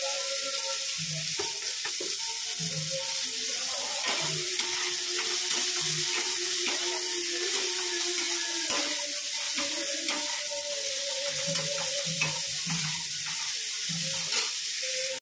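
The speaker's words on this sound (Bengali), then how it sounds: "উচ্ছেটা পুরো লাল লাল করে ভাজবো।" Bitter gourd fries in oil until reddish, a loud, continuous close sizzle with intermittent stirring clinks and a faint tonal hum running underneath.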